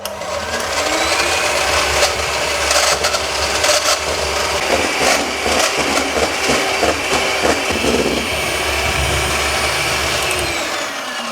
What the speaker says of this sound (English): here we have this thingy, whipper or something. Mixer.